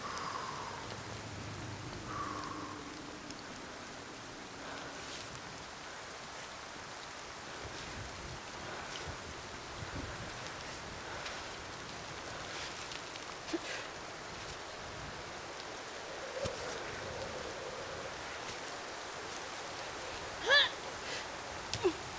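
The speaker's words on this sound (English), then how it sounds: "And it's raining." Video game rain in Cairn patters and hisses in a soft, continuous wash, with a few faint knocks and splashes popping up now and then.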